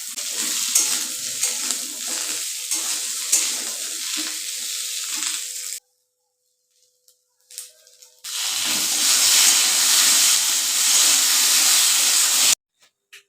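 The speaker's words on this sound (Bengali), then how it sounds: "আর এই আলুটাকে কিন্তু আগে একটু হালকা তেলে ভেজে" Small potato pieces fry in a little oil in a kadai, giving a close, crackling sizzle, then a few seconds of near silence, then a louder, steady hissing sizzle that cuts off abruptly.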